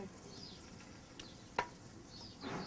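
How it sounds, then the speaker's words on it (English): Ragù sauce stirred in a pan during fresh pasta making: soft scraping swirls with a light sizzle underneath, one sharp utensil clack near the middle, fairly quiet and close with no talking. "So just gonna mix our sauce"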